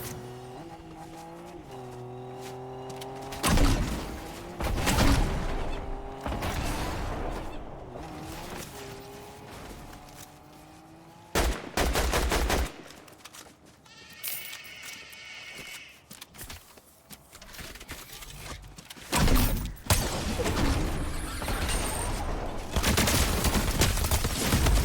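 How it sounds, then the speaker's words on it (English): Rapid bursts of SMG gunfire in the Fortnite video game, several loud volleys spread through the clip, mixed with other game effects and sounds of movement. "I unloaded that SMG on him."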